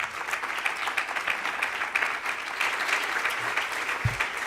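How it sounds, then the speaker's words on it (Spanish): Sustained applause from a conference audience at an education event, a dense even clatter of many hands that continues throughout with a slight thump near the end. "Lo recibimos con un fuerte aplauso."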